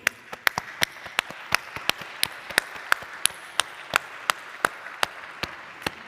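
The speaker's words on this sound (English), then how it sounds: "So, round of applause for you." Conference audience applause at a morning session: sparse, separate sharp claps spaced through several seconds, fairly quiet and without talk, as if only a few people in the hall are clapping.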